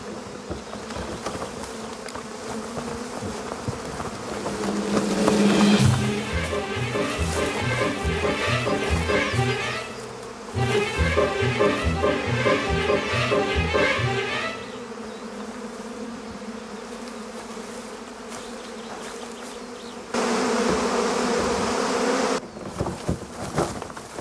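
Dense buzzing of many bees swarming close by, loud and continuous, swelling and fading in waves with a few sharper bursts.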